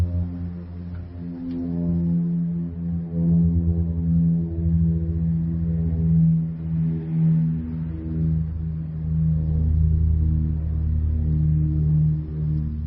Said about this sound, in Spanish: Gracias a Álvaro Arias, este es el sonido de esa avioneta u avión, tosco y antiguo y de la Unión Soviética